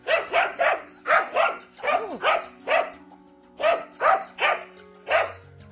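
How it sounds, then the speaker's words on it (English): A dog barks repeatedly in quick bursts of two or three, loud and close, with steady background hum and no talking. "Dangerous dogs are a threat to passers-by."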